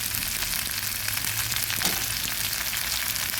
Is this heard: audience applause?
no